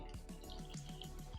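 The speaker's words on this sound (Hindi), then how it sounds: "डालेंगे हम पानी।" Water is poured into a cooking pot holding camel meat and ginger-garlic paste for shami kebabs, giving a close, steady splashing and dripping with small repeated splats throughout.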